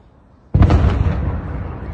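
A sudden loud explosion in Russia's Belgorod region erupts and rolls on, a deep rumbling blast that lingers and slowly fades without cutting off.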